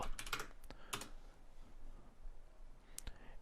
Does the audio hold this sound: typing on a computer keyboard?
yes